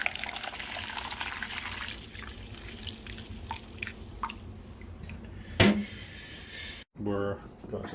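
Water runs and splashes steadily into a pot of spiced mutton and turnips for canning, a low trickling pour with a brief clatter near the end.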